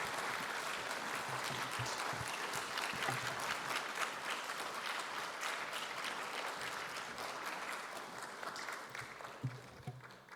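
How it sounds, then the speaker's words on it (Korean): Church congregation at a Korean prayer meeting applauding steadily to welcome a pastor, a soft, even patter of many hands lasting about ten seconds and fading slightly at the end. "우리 박수로 환영합니다"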